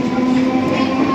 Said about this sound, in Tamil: இறங்கின ட்ரெயின் போகுது.